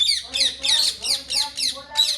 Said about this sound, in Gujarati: ઓહો આઠ દસ પોપટનું ઢોળું આવે